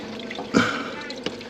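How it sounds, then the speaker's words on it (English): Water trickles and drips steadily inside the hull of an old ship, a continuous wet wash with a couple of sharper splashes close by. "You don't hear too much water."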